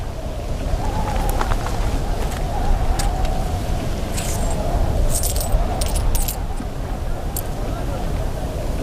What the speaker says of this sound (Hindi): मेरा तमाम सरमाया यही 18 सिक्के हैं।